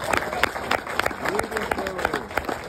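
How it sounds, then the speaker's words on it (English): Audience applause at a company gathering marking a new Army product, scattered claps and crowd noise over a steady wash, with a voice talking over it. "So let's give a round of applause for that."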